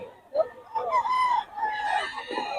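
A young gamecock stag crows close by in a short, strained call, a rising and falling crow lasting about two seconds, with no talk over it.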